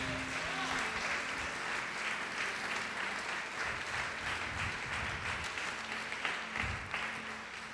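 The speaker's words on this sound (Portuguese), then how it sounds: "Você pode aplaudir o Senhor Jesus por isso?" Sustained applause from a church congregation at a Portuguese-language sermon, a dense steady wash of many hands clapping at even loudness throughout.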